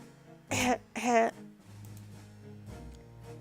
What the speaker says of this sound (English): Lorena coughed quite feebly into her hands.